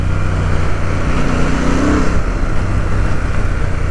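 Royal Enfield Super Meteor 650 motorcycle pulling away under throttle, a loud, steady engine drone with wind rush that rises slightly in pitch, close and continuous with no talking.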